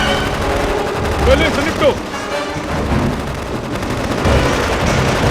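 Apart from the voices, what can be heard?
gunfire in action movie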